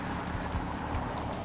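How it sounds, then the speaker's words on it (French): A Chevrolet Camaro Hot Wheels edition with a 6.2-litre V8 gives a deep, steady rumble that fills the whole moment, with a muffled, windy roar on top. "l'on se délecte sans retenue des gargarismes du V8 6 litres 2 niché sous le"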